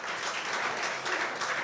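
A home crowd at a snooker match in the 2024 Scottish Open applauds, a steady, even wash of clapping that is moderately loud and sustained throughout, with no speech over it.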